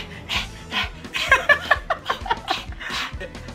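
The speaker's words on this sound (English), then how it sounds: "Somebody panting." Panting sound effect played during a song association game, quick breathy bursts in an uneven rhythm, close and fairly loud, with laughter and chuckling mixed in.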